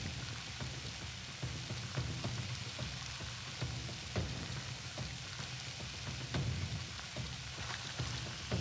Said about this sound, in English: Frying the fish, frying the fish.